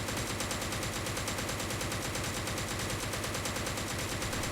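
A DP machine gun chambered in 7.62 fires in the video game Cordon, a loud sustained burst of rapid, evenly spaced automatic shots at about 550 rounds a minute, continuous throughout.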